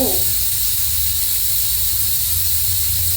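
Steady, loud hiss of escaping steam from a pressure cooker cooking dal continues without a break, with a low rumble underneath.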